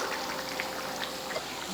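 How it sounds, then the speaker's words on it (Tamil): Steady bubbling of a curry on the boil in a pot, soft pops and gurgles over a continuous hiss, close by with no talking. "குழம்பு கொதிக்க ஆரம்பிச்சிருச்சு"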